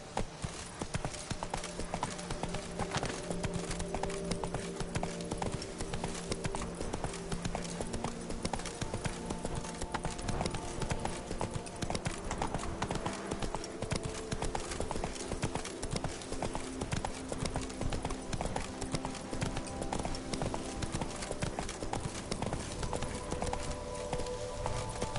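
Roach, a horse in The Witcher 3: Blood and Wine, gallops steadily for a long stretch, close and constant hoofbeats in an even driving rhythm over a low game background hum, with no talking.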